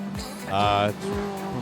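A Subaru Legacy 2000cc standard-class race car on a fast Sri Lankan racing circuit holds a steady engine drone that rises in pitch, swells and then eases, with a faint tire squeal and a commentator talking throughout.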